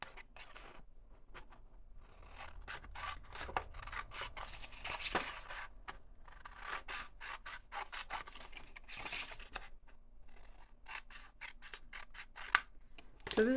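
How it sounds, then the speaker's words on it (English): Scissors snip out a square of decorated paper or greeting card for a folded tangram, a close, steady run of short crisp cuts with light paper rustling and no talking. "So now I'm cutting out my square."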